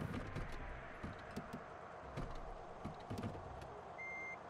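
Truck reversing beeps in the trucking game Drivers Jobs, a faint high steady electronic tone near the end over a low idling engine rumble and scattered clicks.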